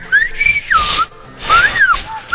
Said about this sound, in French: Quand les hommes parlent en sifflant,